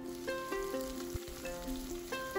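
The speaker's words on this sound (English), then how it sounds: "I have taken 2 onions sliced here and fry it" Sliced onions fry in hot oil and ghee, giving a steady, soft sizzle with light scraping now and then as they are stirred, heard alone without speech.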